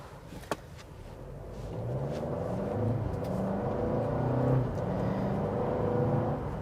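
A 2024 Mercedes-Benz GLA 250 in sport drive mode, its engine rumbling and rising in a steady whir as the car accelerates, heard from inside the cabin with no talking.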